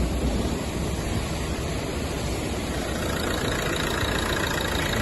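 A Renault Megane engine idling steadily close by, a constant low rumble and mechanical hum with no change in pace throughout.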